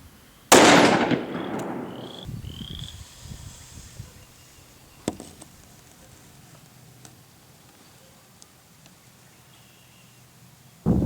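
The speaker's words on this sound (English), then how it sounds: "so I'm going to shoot one more real quick." A single sharp, very loud gunshot from a 357 Magnum firing full metal jacket rounds into ballistics gel, with a ringing decay and a few faint clicks and knocks afterward in a quiet outdoor setting.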